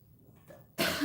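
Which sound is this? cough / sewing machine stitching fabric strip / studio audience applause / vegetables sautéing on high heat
cough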